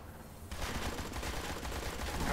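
Rapid bursts of gunfire ring out in the video game Blues and Bullets, starting abruptly after a short quiet lead-in and continuing as dense, loud, continuous shooting.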